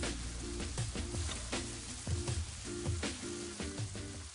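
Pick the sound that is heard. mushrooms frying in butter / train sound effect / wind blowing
mushrooms frying in butter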